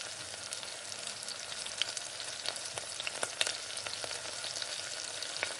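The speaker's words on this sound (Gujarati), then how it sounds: "બાકી બચેલા કીરાના પણ આપણે એ જ રીતે ભજીયા બનાવી લઈશું તેને પણ તળી લઈશું" Methi bhajiya, fenugreek fritters, deep-frying in oil, a soft continuous bubbling sizzle with scattered small crackles, fairly quiet and steady with no speech.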